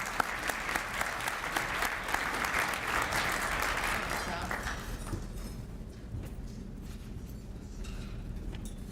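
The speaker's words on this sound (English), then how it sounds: "Please join me in a round of applause for Brian Figgett." An audience at a bar association event applauds a speaker, dense clapping for about five seconds before it stops and a quieter room follows.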